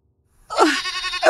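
Goats bleat in a pen, one close, loud, wavering bleat starting abruptly and holding for most of the moment, with a second call beginning right at the end.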